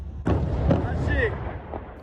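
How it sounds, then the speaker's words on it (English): A single sharp blast from an explosion in Gaza hits early and rumbles on, followed by faint whistling debris-like sounds as the noise slowly fades. "This is one of the explosions which destroyed Gaza"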